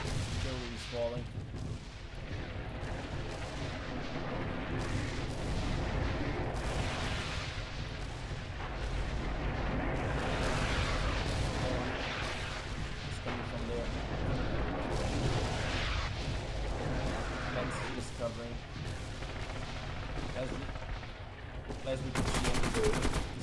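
A video game battle rumbles with layered gunfire and booming artillery, dense and continuous, swelling and easing in waves, as a commentator talks over the action.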